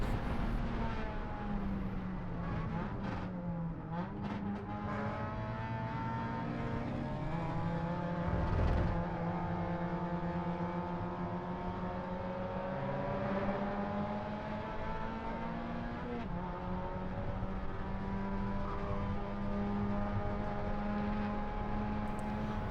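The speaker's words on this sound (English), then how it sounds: "there goes our friend in the orange and white Porsche." An orange and white Porsche race car passes on the track during an ARRC race, its engine a distant, fairly faint drone that swells and drops in pitch near the middle and lingers with other engine noise.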